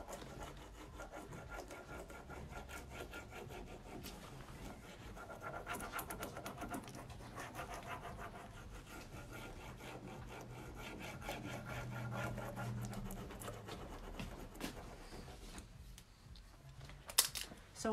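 A transfer is rubbed onto a wooden jewelry cabinet by hand, a quiet, continuous scraping rasp with steady back-and-forth strokes close to the microphone, ending in a few louder scuffs.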